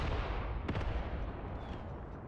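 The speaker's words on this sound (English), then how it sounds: "Yeah, mortars here are working." Mortar fire in the World War II game Mius Front: a muffled distant boom with a brief sharp burst over a low rumbling battlefield backdrop.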